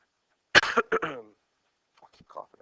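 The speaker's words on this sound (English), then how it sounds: "I'll keep coughing in there" A lecturer in a calculus class coughs a few times in a short burst of close, hoarse coughs, followed by quieter throat sounds after a pause.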